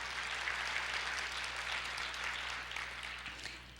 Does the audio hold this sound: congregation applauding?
yes